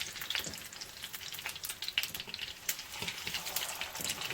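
Chicken kebabs fry in hot oil over medium-low heat, giving a steady crackling sizzle with scattered sharp pops throughout, fairly close and alone.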